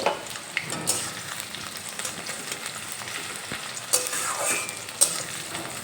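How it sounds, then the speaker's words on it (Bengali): Chopped onion fries in a pan over a medium gas flame, a soft steady sizzle with occasional sharp clicks and scrapes of stirring, close and fairly quiet. "গ্যাসের ফ্লেম মিডিয়ামে রেখে পেঁয়াজটা হালকা ভেজে নেব"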